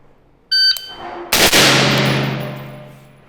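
A rifle fires during a timed shooting drill, preceded by a shot timer's electronic beep. A single loud, sharp crack follows, its echo decaying slowly, with no talking.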